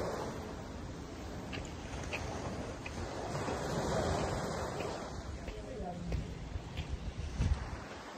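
Sea waves wash and rush steadily nearby under blustery wind noise, with a soft rumbling swell and occasional small splashes.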